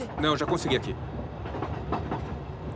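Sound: passenger train moving on rails

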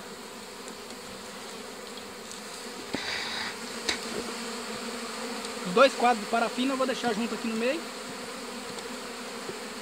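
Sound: honey bees buzzing at an opened beehive

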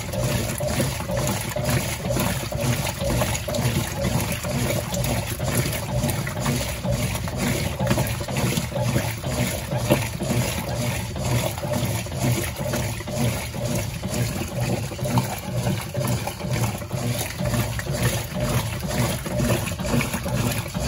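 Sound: Brastemp washing machine running on turbo cycle

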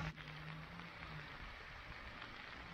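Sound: rain

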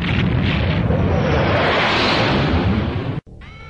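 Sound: cannon firing explosion

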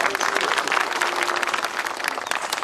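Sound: audience applause at wedding

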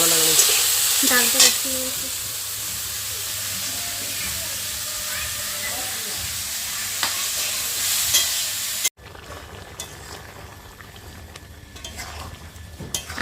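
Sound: food frying in a pan

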